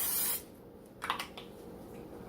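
A short, sharp cooking spray hiss into a casserole dish at the start, then quiet rustling and a soft rub, ending with a sudden knock.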